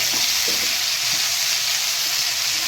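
Pui (Malabar spinach) greens fry in a pan with a steady, close, loud sizzle, broadband hiss holding level throughout with a few faint low knocks underneath and no talking.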